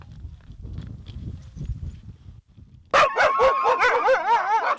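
Greenland sled dogs bark and yelp loudly in a close, overlapping chorus that erupts suddenly after a stretch of quieter rustling and shuffling.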